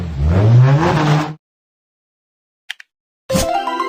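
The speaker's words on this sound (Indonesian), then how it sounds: "Mobil formula." Formula racing car engine revving in one loud, close burst lasting just over a second, followed by silence and then a short spoken word.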